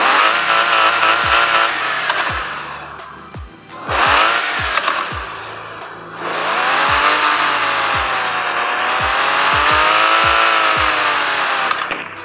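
A Porsche in the Car Parking video game revs repeatedly, its engine pitch sweeping up and down in surging bursts over several seconds, punctuated by sharp clicking taps.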